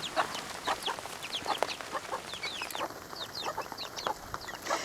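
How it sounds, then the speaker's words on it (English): Several chickens cluck and chirp in bursts close by outdoors on a rainy November day, a steady patter of rain underneath, no one talking. "There's the little chickies. They're coming out."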